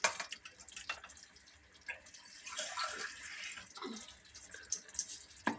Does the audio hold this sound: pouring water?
yes